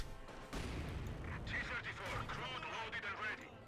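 In Company of Heroes 2, medium mortar fire arrives as muffled booms and thumps in a busy battle mix, fairly quiet and repeating irregularly over a few seconds.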